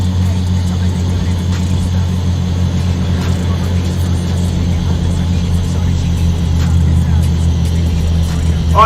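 A loud open-pipe semi truck engine in American Truck Simulator drones steadily and close throughout, a deep continuous rumble with a low hum, while someone talks over it.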